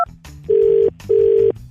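After a call is hung up, a telephone line gives two loud, steady beeps, each about half a second long, with a short pause between and faint background noise underneath.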